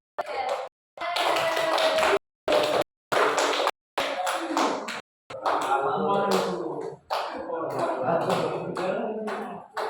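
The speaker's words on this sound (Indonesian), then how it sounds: "Ya, tepuk tangan." Schoolchildren in a classroom clapping for a classmate called up to receive a prize, brisk close clapping broken by several abrupt gaps, with children's voices throughout.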